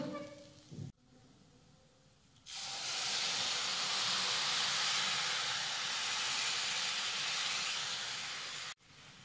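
Milk poured into a hot wet-coconut mixture for coconut vadi/barfi gives a loud, steady hissing sizzle that bursts in and holds for several seconds, then cuts off, with softer pan sounds before it.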